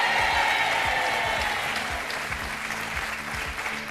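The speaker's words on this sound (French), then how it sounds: "Mesdames et messieurs, applaudissez Sylvie et Gwendal" Studio audience at a French TV game show applauding contestants, a dense, steady wash of many hands clapping close and loud for the full stretch, fading only slightly toward the end.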